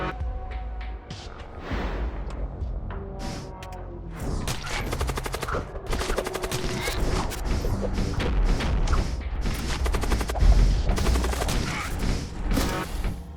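Dense gunfire in the space combat game Void War: rapid volleys of shots and booms layered over each other, continuous and loud throughout with no pauses, with no voices.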